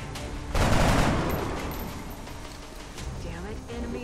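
A single heavy gunshot in the video game XCOM, a loud boom that rings out and fades slowly, with faint game ambience and a smaller crack near the end.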